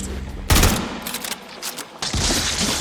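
Bursts of weapon fire in the video game Warframe strike at an infested hive: sharp repeated shots in a rapid fusillade, loud and close, with a short lull before the firing resumes.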